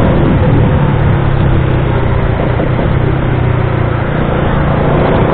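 A Rusi Flash 150X fuel-injected motorcycle engine drones loud and steady while riding in third gear at speed, with heavy wind rush over the hum and no break throughout.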